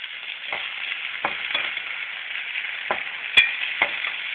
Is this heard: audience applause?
no